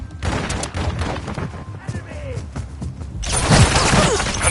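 Rapid, overlapping bursts of automatic gunfire in the Modern Warfare 3 multiplayer video game, dense and loud throughout and swelling into a heavier barrage near the end.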